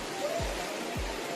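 Secret Falls in Bulacan pours with a steady, broad rushing roar of falling water, with two soft low thumps in the brief stretch.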